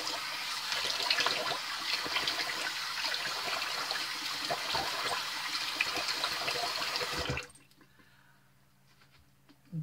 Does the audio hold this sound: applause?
no